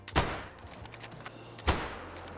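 Two rifle shots at a deer in the hunting game Call of the Wild: a sharp crack, then a second one about a second and a half later, over a quiet outdoor backdrop with a low steady hum.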